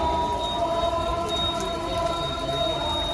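Outdoor rain falls steadily during a Muharram procession at Khumani Chowk, Bemina, Kashmir, a continuous loud hiss with faint tonal hums and distant crowd murmur beneath.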